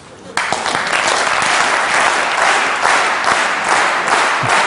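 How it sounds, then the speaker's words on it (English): A lecture audience at a talk on synchronization bursts into loud clapping that starts abruptly and settles into a fairly even, pulsing rhythm, as if the hands are falling into step together. "Can you get it together to clap in sync?"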